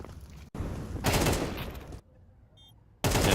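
Rapid bursts of gunfire in a Counter-Strike match, loud and close, in several separate volleys broken by short quiet gaps.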